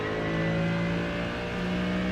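A Mercedes GT3 race car at Suzuka in the iRacing simulator drones loudly and steadily at high revs under full throttle, its engine note holding a strong, sustained pitch without speech.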